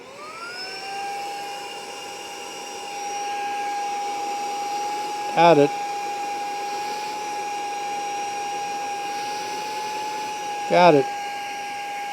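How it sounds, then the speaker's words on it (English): A small vacuum whines steadily, a constant tonal hum that rises in pitch as it sucks small hive beetles off beehive frames, with two brief spoken bursts over it. "I can spend all day vacuuming up beetles off of frames like that."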